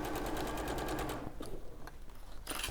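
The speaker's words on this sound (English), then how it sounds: "you need a computerised sewing machine" Computerised sewing machine stitching at a fast, steady rhythmic clatter, close and loud, pausing briefly midway before the rapid needle run resumes.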